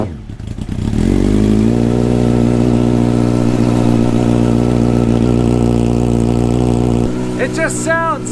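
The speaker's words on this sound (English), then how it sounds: "Alright, here's a little cold start. Full Delcovic stainless." A car with a full Delcovic stainless steel exhaust cold-starts: a brief crank, then the engine catches into a loud, steady droning idle that holds for several seconds before dropping off near the end, where a voice briefly comes in.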